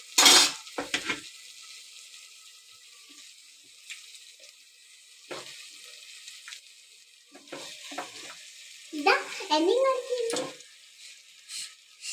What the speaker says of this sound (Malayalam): അപ്പോൾ നമ്മളത് നന്നായിട്ടൊന്ന് മിക്സാക്കി കൊടുക്കണം